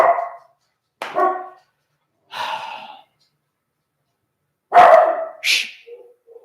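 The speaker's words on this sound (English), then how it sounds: "The neighbor's dog is barking." A neighbor's dog barks in short separated bursts, several distinct barks with gaps of silence between them, fairly close and clear.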